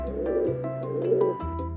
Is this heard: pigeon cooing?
yes